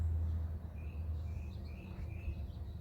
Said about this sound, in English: There's so many birds, so many other noises.